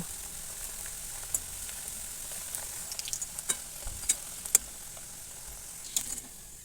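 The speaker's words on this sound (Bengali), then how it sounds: "এবার আমি কম আছে এক এক করে সব ভেজে নেব" Palm fruit pithas fry in hot oil in a kadai, a soft continuous sizzle with scattered sharp pops and crackles, quiet and close, with no talking.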